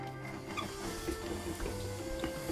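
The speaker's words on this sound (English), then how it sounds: "using a hand mixer or a stem mixer," A hand mixer beating white chocolate melts, a faint steady motor whine with light clicking and rattling as the beaters turn through the chocolate.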